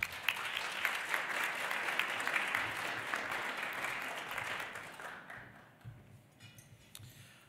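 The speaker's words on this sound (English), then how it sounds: "let's give one more round of applause for the Rocky Mountain Blue Sky Legacy Award winners" Sustained applause from an audience at the 2023 Green Business Awards for the Rocky Mountain Blue Sky Legacy Award winners, a dense wash of clapping that holds steady, then thins into scattered claps and fades near the end.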